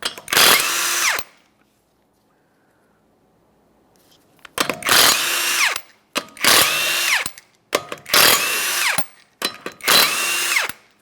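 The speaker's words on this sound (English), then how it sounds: "to remove the right front wheel, we're going to remove all 5 of our 21mm lug nuts" Power impact tool spinning off the 21mm lug nuts from the right front wheel of a 2014-2019 Toyota Corolla: five loud close bursts of rattling whine, the first separated from the rest by a silent gap.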